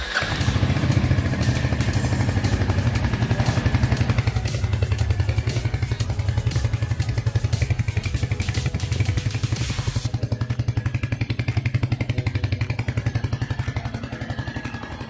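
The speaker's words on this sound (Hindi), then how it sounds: "अब इसके इंजन और एग्जॉस्ट साउंड को भी सुन लेते हैं।" A 2023 Royal Enfield Hunter 350 motorcycle engine idles close by with a steady, thumping exhaust beat and mechanical clatter, continuous throughout with no talking.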